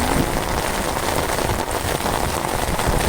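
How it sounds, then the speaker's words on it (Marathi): Heavy rain pouring down hard and close, a dense unbroken roar of drops striking surfaces with no voices. "मित्रांनो पाऊस बघा किती जोरात आलाय तो हो बघा"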